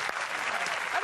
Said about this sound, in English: Just the three of us clapping you there.